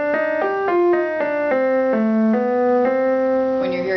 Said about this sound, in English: just one note at a time and nothing else is going on,